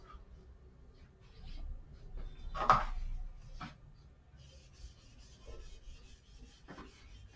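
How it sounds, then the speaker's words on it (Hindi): Writing is rubbed off a classroom board with a soft, dry scraping that swells briefly in the middle and then fades to faint rubbing strokes. "अगर ये रिजल्ट क्लियर है तो मैं ये रिजल्ट रब कर देता हूं"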